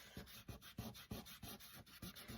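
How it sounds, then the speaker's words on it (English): A fingertip scrapes dry masking fluid off watercolour paper in quick, rhythmic rubbing strokes, about nine short scratchy passes, faint and close with no talk. "you can just use the tip of your finger and scrape it off"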